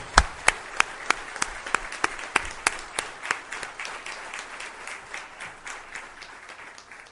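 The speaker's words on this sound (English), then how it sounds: "may I please request you to give him a thundering applause" An audience at an annual general meeting breaks into sustained applause, loud sharp claps at first that settle into a steady, dense roll and fade slightly toward the end.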